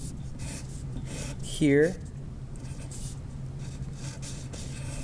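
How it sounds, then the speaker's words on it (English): A pen writing a word on paper in an elementary art self-portrait lesson, soft scratchy strokes close by, heard under a person's speaking voice. "So I'm going to write kind"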